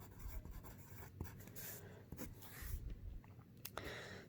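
Pen scratching across paper while someone writes out drug names, a steady soft scraping with small taps and pauses, close and quiet with no voices.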